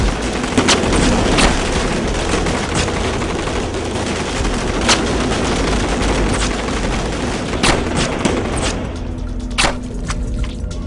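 Gunfire in a dubbed Hollywood action thriller, dense bursts of rapid shots and sharp cracks stacked over a rumbling background, loud and continuous, with a few louder isolated blasts near the end.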